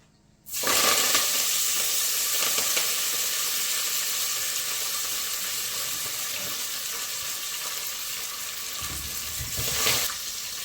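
Fresh fenugreek leaves tossed into a hot pan with dried red chillies for methi chicken, an abrupt burst of loud sizzling and hissing that starts suddenly and holds steady, swelling briefly again near the end.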